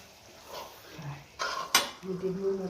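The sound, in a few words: spoon stirring turmeric curry in a pan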